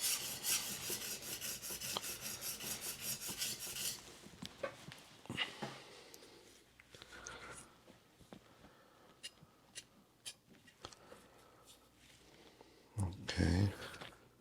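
A knife drawn across a cheap $7 whetstone in quick, fine rasping strokes, a dense run of scrapes at first, then sparser, quieter strokes with clicks and soft handling noises, close and fairly faint.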